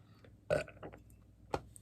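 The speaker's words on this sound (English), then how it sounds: "Burping up foam." A person burps after drinking Holsten Premium 5% beer, giving one close, gurgling belch followed by a shorter second one.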